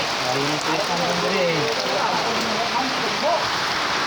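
Steady rain patters across the whole stretch, a dense hiss of drops with people talking faintly underneath.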